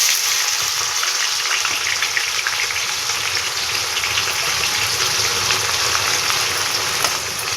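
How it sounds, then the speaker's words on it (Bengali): Sliced onion fries in hot oil in a wok, a loud, steady, crackling sizzle that runs on without pause. "না পেঁয়াজ দাও, এবার পেঁয়াজটা ভেজে নেব।"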